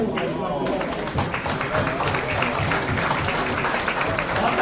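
A standing audience at a press conference gives sustained, dense applause that fills the room evenly, with voices talking over it.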